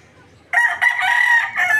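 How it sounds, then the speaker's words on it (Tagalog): A roundhead rooster crows on a farm, one loud, close, drawn-out call that starts abruptly after a quiet moment, wavers briefly, then carries on with a final rising phrase. "ang roundhead namin."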